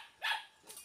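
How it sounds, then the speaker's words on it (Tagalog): A dog near a house beside a sugarcane field gives a single sharp bark up close, then a fainter second yip trails after it, with no other sound around. "Aso dito."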